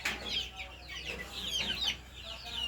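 LDT Gray gamefowl chickens at a game farm keep up a steady, close chatter of overlapping clucks and high peeping calls, with no talking.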